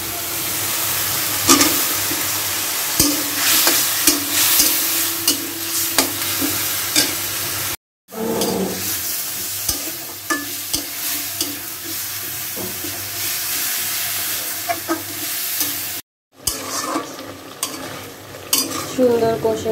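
Vegetables sautéing in a hot pan with spices, a steady loud sizzle and hiss with scraping stirs running throughout, broken by two brief silent cuts.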